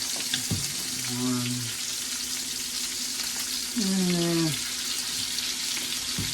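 A pork chop frying in a pan as small pieces of Kerrygold butter are added, giving a steady loud sizzle throughout, with a couple of brief tonal squeaks over the frying.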